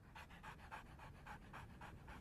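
A cartoon puppy pants in quick, steady breathy huffs, about eight even bursts in a row, close and clear with no speech over it.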